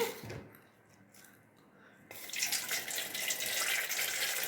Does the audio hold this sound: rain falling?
no